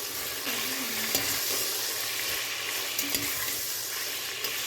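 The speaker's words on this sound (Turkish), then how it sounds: "salçanın rengi çıkana kadar iyice kavuruyorum" Homemade tomato paste frying with meat in a pot, a loud steady close sizzle with occasional stirring scrapes, continuous throughout with no talking.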